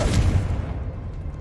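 A Confringo blasting spell explodes in Hogwarts Legacy, a single deep, close boom that rumbles briefly and then fades into a low tail.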